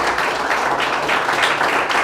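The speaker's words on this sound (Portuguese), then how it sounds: "Quem entendeu pode aplaudir e glorificar." A church congregation applauds together in a steady, dense wash of clapping that fills the whole moment at close range, with no voices rising above it.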